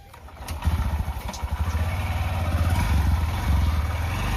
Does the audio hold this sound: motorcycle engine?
yes